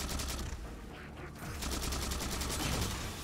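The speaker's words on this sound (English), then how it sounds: "Oh, I enjoy that needler sound." Needler firing in Halo 4, a dense run of rapid, crackling shots with a brief lull midway before the stream resumes, close and steady over game noise.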